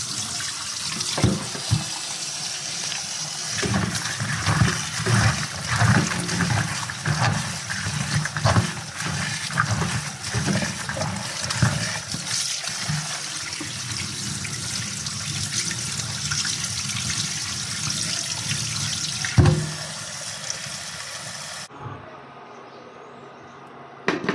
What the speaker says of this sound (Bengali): আমি এখন আমার মেয়ের জন্য এগুলো রান্না করব, তাই আমি সুন্দর করে ধুয়ে নিচ্ছি।